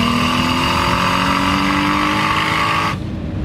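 A loud exhaust on a 400HP Ford Focus ST drones steadily with rough popping and crackling texture on downshift, then the engine note drops away abruptly near the end.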